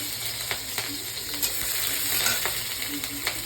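Green chili and ginger sizzle steadily in hot oil for a potato curry, with a bright continuous crackle and occasional sharp clinks of a spoon stirring the pan, close and alone.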